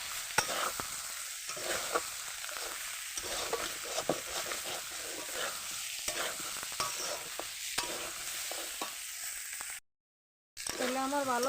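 Potatoes for aloo dum frying in a pan, stirred again and again, with a steady sizzle and repeated scraping knocks; a brief pause near the end, then a voice speaks over the cooking.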